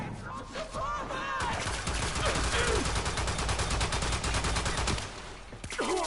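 Rapid enemy gunfire in the Warframe video game, a dense burst of repeated shots clattering for several seconds at moderate level, with brief game sounds around it.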